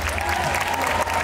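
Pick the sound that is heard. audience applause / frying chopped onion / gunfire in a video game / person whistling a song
audience applause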